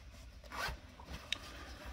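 A hidden zip pocket on athletic workout shorts being zipped, a brief close rasping slide followed by a small sharp tick, with no talking.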